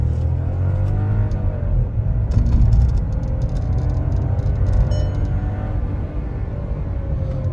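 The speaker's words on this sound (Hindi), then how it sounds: "अब एक इन रन एक्सेलरेशन दिखा देता हूँ आपको कि कैसी है" Volkswagen Taigun 1L Highline Plus accelerating in gear, a loud steady engine drone with rising tones climbing gradually, heard from inside the car with a constant road rumble underneath.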